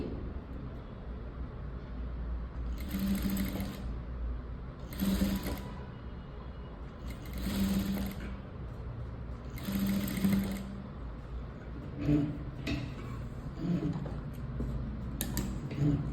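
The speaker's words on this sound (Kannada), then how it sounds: "ಕ್ಯಾನ್ವಾಸ್ ಬಟ್ಟೆ ಮೇಲೆ ಸ್ಟಿಚ್ ಬರೋ ಥರ ನೋಡ್ಕೊಳ್ಳಿ" A sewing machine stitches thread piping onto canvas cloth in several short rapid bursts of mechanical whirring, separated by brief pauses and small clicks, close and moderately loud.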